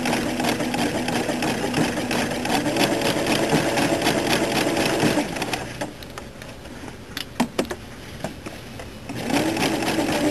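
A sewing machine sews a blind stitch in a loud, steady, close mechanical hum. It pauses briefly for a few soft clicks, then starts running again.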